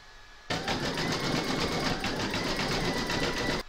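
An embroidery machine zigzag-stitches around the raw edges of fabric eyelets on Easter chick bunting, a rapid, even mechanical whirring that starts abruptly and runs steadily before stopping.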